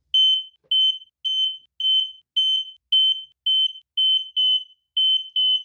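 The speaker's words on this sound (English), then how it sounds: "this time also the smoke detector has been reacting exactly as intended" An X-Sense SC07-W interconnected smoke alarm sounds a loud, close series of about eleven evenly spaced high-pitched beeps, each roughly a third of a second long, with no other sound around them.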